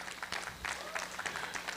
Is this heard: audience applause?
yes